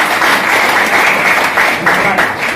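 Audience applause at a business plan presentation, a dense steady wash of clapping filling the room from start to finish with a few slightly louder swells.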